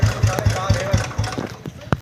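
A Bullet motorcycle engine idles after starting, with a steady, loud, close thump-thump beat, while people talk over it.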